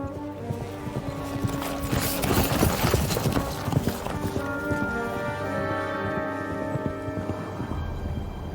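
Horse hooves clip-clop in the medieval game Kingdom Come Deliverance 2 at a castle gate during the siege of Suchdol, with a steady gait under a loud, dense game soundscape and music.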